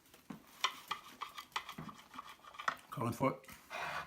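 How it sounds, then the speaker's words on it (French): A bread knife saws through a baked croissant in short, light scratchy strokes, with crumbly crackles close by under someone speaking French. "Couteau à pain, ça se coupe tout seul."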